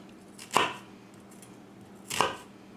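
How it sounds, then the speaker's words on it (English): Knife dicing an onion on a cutting board: two distinct chopping thuds about a second and a half apart, close and clear over quiet room tone. "I'm going to get the rest of the onion cut up"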